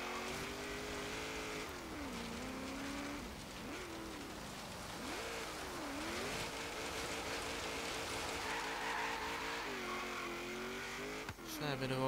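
A 1991 GMC Syclone engine racing in the video game Forza Horizon 3 on an autocross course, a steady droning roar that rises and falls in pitch as it shifts and accelerates, with a sharp knock near the end.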